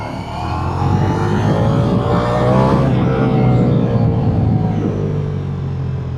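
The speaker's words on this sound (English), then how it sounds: "the mid-range of this Gran Turismo V4 engine, that's the real sweet spot here" A Ducati Diavel V4 motorcycle's Gran Turismo V4 engine revs through the mid-range, a loud, continuous close-up roar that swells and rises in pitch, then eases slightly toward the end.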